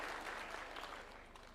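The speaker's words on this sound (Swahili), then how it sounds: "Tuwapigie makofi." An audience at a UDA National Governing Council political meeting in Kenya claps in a brief, fairly faint burst of steady applause that tapers slightly.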